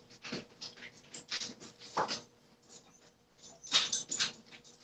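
A puppy whimpers and whines in a room during an online podcast call, giving a string of soft, thin, high-pitched cries and a few brief yips, quiet and scattered over a low background hum.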